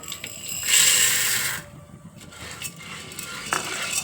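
Corn kernels are tipped into hot oil in a pressure cooker pot, giving a loud burst of sizzling and rattling that fades, followed by scraping and clinking as the kernels are stirred, with no talk.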